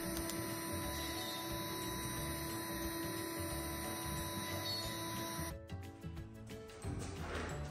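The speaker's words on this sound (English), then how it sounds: "Here you can see the CNC router engraving the waterline and strongback line in the board, and the holes being drilled with the CNC router." A CNC router engraves and drills a frame construction board, its motor whining steadily with layered tonal hum before the cutting stops abruptly, leaving a few clunks and rattles.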